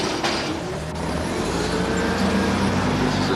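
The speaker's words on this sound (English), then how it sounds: "This is a truck of raw steel that just came in." A truck carrying raw steel pulls up at the receiving dock of the Schlage Lock factory in San Francisco: a steady, low engine rumble with a faint whine and background noise, continuous throughout.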